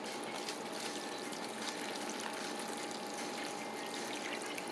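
Hot water runs steadily into a tub at low level, a continuous soft trickle and splash with no voices.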